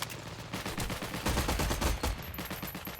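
An MG13 machine gun braced on its bipod fires a long, rapid, sustained burst in Heroes and Generals, with dense loud rattling shots throughout, close and continuous.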